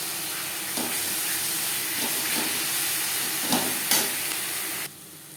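Onion, garlic and spices fry in a pan for a fish and potato curry, giving a steady close hiss throughout with a few soft stirring knocks near the end, then the sound cuts off abruptly.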